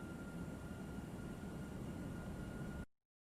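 Airplane engines roar at takeoff in the Flight Simulator video game, a loud, steady, even rumble that holds throughout and then cuts off abruptly at the end.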